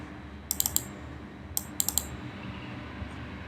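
Code being typed by hand on a computer keyboard in Xcode: two quick bursts of crisp, close key clicks with a short pause between them, over a quiet room with no talk.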